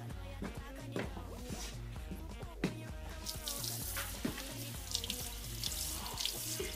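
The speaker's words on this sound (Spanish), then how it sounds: "Después de hervir, lavamos la lechuga." Lettuce is washed under a running kitchen tap, giving a steady close splash and gurgle of water with leaf handling and occasional rustles and knocks in a sink.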